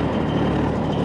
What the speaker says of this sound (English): See how it's hunting now? Oh, that's your generator.